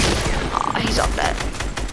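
A minigun firing in Fortnite, dense rapid bursts of gunfire layered with other game noise, loud and continuous throughout.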